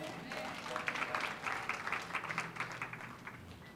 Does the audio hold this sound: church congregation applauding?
yes